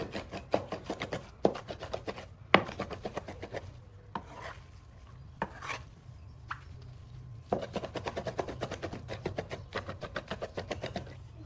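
Raw minced beef worked by hand for kofta kebabs, giving bursts of soft wet squelching and slapping strokes in rhythmic runs, separated by short pauses, close and fairly quiet.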